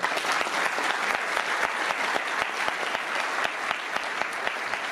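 An audience at a lecture on Franco-era Catholic and social Spain breaks into sustained, even applause, dense and steady for the whole stretch with no speech over it.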